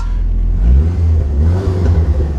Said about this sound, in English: Listen to that exhaust, Nick.